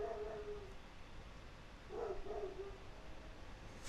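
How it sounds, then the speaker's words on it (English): A dog barks and whines faintly in the distance, with two short bursts of yelping separated by quiet room tone. "Bloody dog's barking again."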